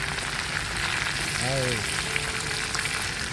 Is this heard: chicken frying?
yes